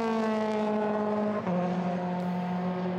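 A Euroformula Open race car accelerates at Silverstone during qualifying, a loud steady high-pitched engine note climbing in pitch, briefly dipping at a gear change, then rising again.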